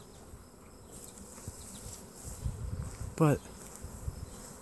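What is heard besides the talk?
swarm of bees buzzing in a yard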